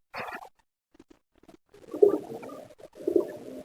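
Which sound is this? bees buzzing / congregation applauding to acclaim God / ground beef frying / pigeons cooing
pigeons cooing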